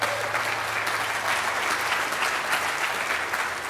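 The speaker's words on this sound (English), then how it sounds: "I think you all ought to give yourself a round of applause for that" Dense, sustained applause fills a hall at a summit for a fair economy, with a large audience clapping steadily and evenly at close range for several seconds, with no talk.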